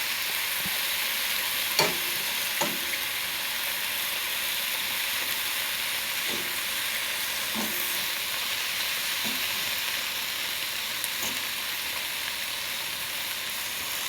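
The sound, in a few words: pineapple frying and caramelizing in a pan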